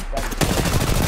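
Rapid gunfire in Apex Legends, a dense burst of loud, close shots aimed at Octane that keeps up without a break.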